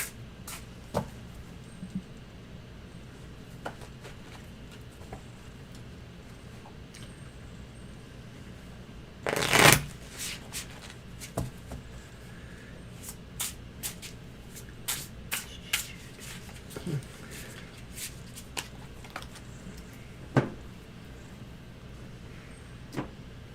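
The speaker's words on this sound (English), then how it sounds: "They're probably the easiest deck in a while to shuffle." Tarot cards are shuffled in soft, scattered riffles and taps over a low steady hum, with one louder sharp burst midway.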